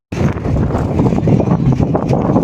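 Strong cyclone wind on the ECR coast near Kovalam, Chennai, roars in a loud, close, blustery rush buffeting the microphone, continuous for a couple of seconds.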